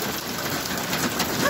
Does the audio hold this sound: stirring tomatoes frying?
no